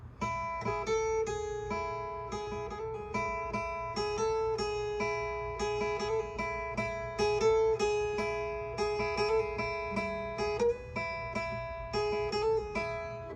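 A clean guitar melody of repeated, flowing notes, with quick slurred notes between picked ones, played steadily over a soft background.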